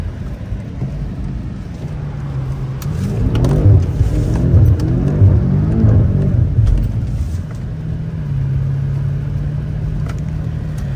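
A BMW F90 M5 drifting in a pit, its engine revving and rumbling up and down under load with tire noise, loud and close, rising through the middle then settling to a steady drone.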